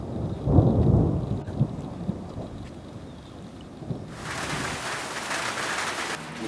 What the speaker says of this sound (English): It might rain. It is raining.